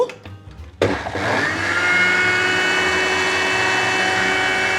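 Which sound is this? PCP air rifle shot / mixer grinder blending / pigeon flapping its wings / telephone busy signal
mixer grinder blending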